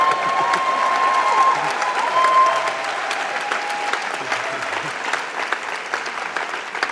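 A Labour Party conference audience in a large hall applauds with sustained, dense clapping that gradually thins out.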